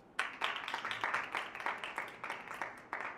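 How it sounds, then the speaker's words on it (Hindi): A church congregation claps and applauds in worship, a dense, steady patter of many hands with slight swells lasting a few seconds, no voices on top. "और यीशु मसीह के लिए जोरदार तालियां।"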